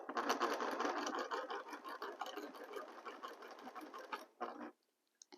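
A sewing machine runs in one steady, continuous burst of fast stitching for over four seconds, then stops abruptly into near silence, with a brief final whir.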